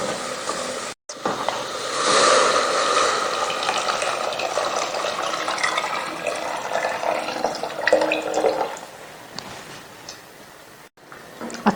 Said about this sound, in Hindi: इसके बाद हमने जो है वो तकरीबन इनको मिक्स करके यखनी शामिल कर देंगे।